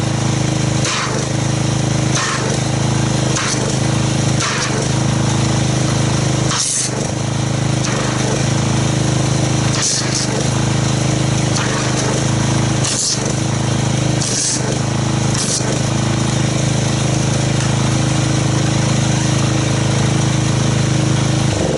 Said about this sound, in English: let me get the pressure washer fired up